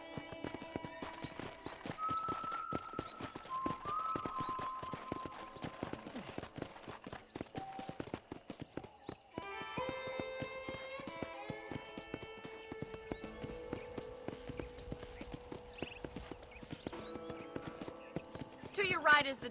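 A horse's hooves clop rapidly and continuously in the Red Dead Redemption video game, a dense trotting rhythm under a voice talking and background game music, with a brief pause partway through.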